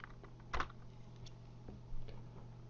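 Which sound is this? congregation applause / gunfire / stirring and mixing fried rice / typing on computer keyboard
typing on computer keyboard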